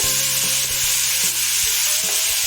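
Mushrooms with spice powders being stirred in a frying pan, a steady close sizzle with recurring scrapes and knocks of the spoon against the pan, and no one talking.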